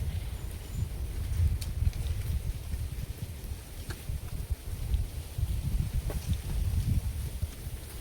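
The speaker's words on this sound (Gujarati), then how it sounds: "બહુ પવન આવ્યો એટલે આ પડે" Strong wind blows outdoors in steady, rumbling gusts that buffet close and loud for the whole stretch, with no voices over it.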